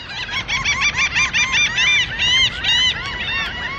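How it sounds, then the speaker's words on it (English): Seagulls on a beach call loudly and constantly, a dense overlapping chorus of harsh, rising cries close by that never lets up. "the seagulls are going crazy"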